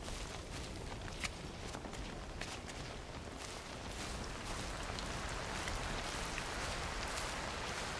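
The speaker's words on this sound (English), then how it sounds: "Just a bit of rain to top it all off." Steady rain falls in the video game Cairn, a dense, even hiss that keeps up throughout with scattered faint drips and taps, no voices over it.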